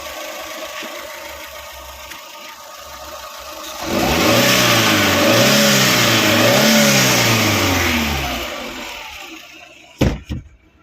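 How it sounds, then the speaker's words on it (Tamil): A 2019 Eeco engine idling, then revved hard for several seconds with rising and falling pitch, close by, before dropping back and stopping with a clunk. "வண்டியை ரேஸ் பண்ணி காமிக்கிறேன்."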